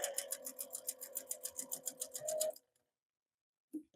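A sewing machine runs a scant quarter-inch seam along a drawn line on half square triangle fabric, stitching in a fast, steady rhythm up close for about two and a half seconds, then stopping, followed by a brief soft thump.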